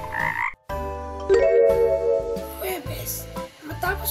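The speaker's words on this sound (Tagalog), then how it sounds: "inimbita ni Peles ang kabarkadang mga palaka at kahit umuulan, paghapon silang umawit" Frogs croaking in the rain, a dense chorus of loud croaks layered over musical tones and tinkling sounds, continuous throughout.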